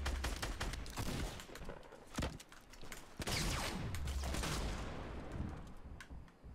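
Gunfire in the Fortnite video game: dense, loud bursts of shots crackle continuously, with sharper individual reports standing out from a busy, noisy battle mix.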